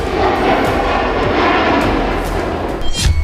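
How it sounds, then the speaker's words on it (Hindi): A Russian nuclear bomber patrolling near the NATO border roars past as a loud, steady broadband engine rumble that fills the whole clip, with a brief louder surge near the end. "नेटो बॉर्डर पर गश्त लगा रहे हैं रूस के न्यूक्लियर बॉम्बर"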